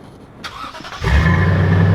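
A 2020 Toyota Tundra Limited pickup truck engine, remote started, cranks briefly and catches, settling into a steady, loud idle rumble close by.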